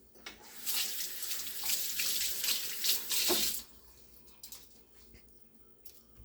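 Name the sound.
rinsing cut turkey wings under running tap water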